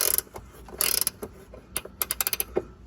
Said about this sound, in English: Let's see if we can get the ratchet in on there